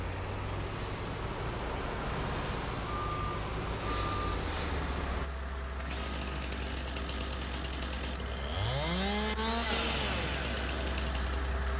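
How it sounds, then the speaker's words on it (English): A truck in Farming Simulator 19 rumbles along at medium distance with a steady engine drone, repeated reversing beeps, hissing air-brake releases and a rising revving sweep near the end. "I will put the truck just on this path."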